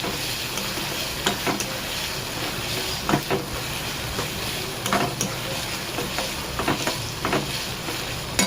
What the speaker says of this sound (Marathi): कांदा चांगला खरपूस भाजून घ्या